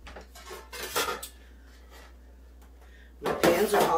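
Metal baking pans clatter and clank in a home kitchen during bread making, with a few sharp knocks early on, a quiet stretch, then a louder burst of handling at the end.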